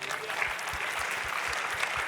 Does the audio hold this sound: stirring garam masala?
no